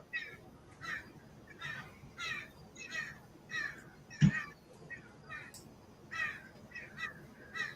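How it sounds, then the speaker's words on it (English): A crow caws repeatedly outdoors, harsh calls spaced about half a second apart, moderately distant and faint, with a single sharp knock partway through and no talk over it. "Crow, yeah."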